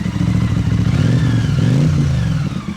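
A 1982 Honda CX500TC Turbo, a liquid-cooled, fuel-injected, turbocharged V-twin motorcycle with shaft drive, runs loud and close, its engine note rising and falling through a rev with no voices present.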